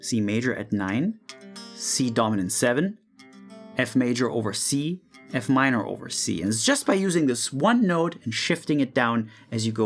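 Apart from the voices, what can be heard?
None of the usual background noises is heard.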